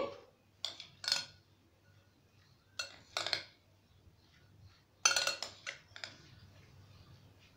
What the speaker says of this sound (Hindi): इन चीजों को एक दफा मिक्स कर लेंगे